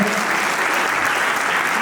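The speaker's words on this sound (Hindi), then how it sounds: "एक बार जोरदार ताली बजाइए इतनी ठंड में इन्होंने।" An audience claps for theatre performers after an open-air staging of a Premchand story on a cold night, dense continuous applause from a crowd, loud and close throughout.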